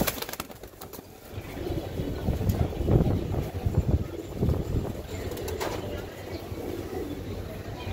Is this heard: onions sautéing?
no